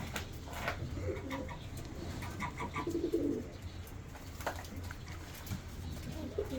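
Andijan pigeons cooing, low soft coos repeating irregularly at close range over a faint background, with no talk.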